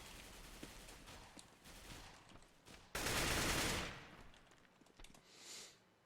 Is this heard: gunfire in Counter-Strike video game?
yes